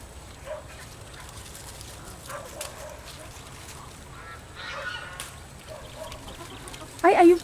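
Chickens clucking and calling in a poultry yard, with sparse, faint clucks scattered through quiet ambience and a louder, sharper squawk close by at the very end.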